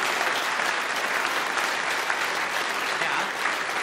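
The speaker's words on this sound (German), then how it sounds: "Ja, Sie klatschen." Steady applause from a theatre audience at a German cabaret comedy show, dense and even throughout with no talk over it.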